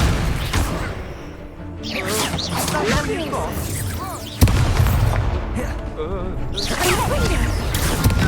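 Hogwarts Legacy combat with the Stupefy spell being cast, a busy mix of magical whooshes, booms and impacts with a sharp burst midway, under a player's voiced spell calls and game dialogue.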